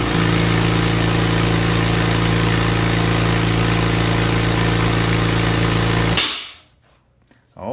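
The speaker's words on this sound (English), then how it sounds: "with the air compressor, down here, we're going to dial in about 30 pounds of pressure" Air compressor running for a paint sprayer, building to about 30 pounds of pressure: a loud, steady, droning hum that runs nearly seven seconds, then cuts off abruptly into near silence.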